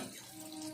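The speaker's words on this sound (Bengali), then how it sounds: "সামান্য জল দিচ্ছি" A small splash of water is poured into a pot of cooking potol posto, a brief, soft pouring trickle heard close and alone.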